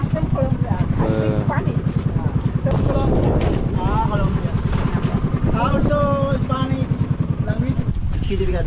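A motorboat heads to a snorkeling spot near Coron, Palawan, in the Philippines, its engine thumping in a steady rapid pulse with wind buffeting the microphone, while people talk over the noise.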